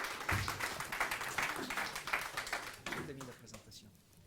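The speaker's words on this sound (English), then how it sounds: "So please, Noah, with your applause" An audience claps in a steady patter that gradually thins and fades out over a few seconds, with a voice faintly under it.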